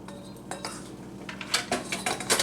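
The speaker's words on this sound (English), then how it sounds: "Now I'm going to add my flour and sugar mixture." Utensils clink against a mixing bowl as a flour and sugar mixture is added for a Pennsylvania Dutch blueberry custard pie, giving a few quiet taps followed by a quick run of louder metallic clinks and scrapes.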